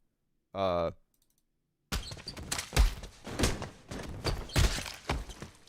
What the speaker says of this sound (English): Punches, thuds, things breaking, and sneakers squeaking. It sounds a bit like this.